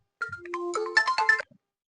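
A phone ringtone plays as a short melodic electronic phrase of rising tones, close and clear, lasting about a second before cutting off, with no talk over it.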